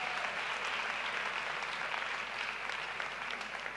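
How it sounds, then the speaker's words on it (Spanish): A crowd claps throughout at a blog awards ceremony, dense and continuous from start to finish at a steady level, nothing else heard. "Mi Dieta Cogea. Un fuerte aplauso."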